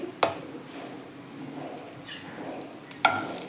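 Cumin, mustard seeds and urad dal fry in two spoons of hot oil in a pan, producing a soft continuous sizzle with a few sharp spoon clinks against the pan, close by.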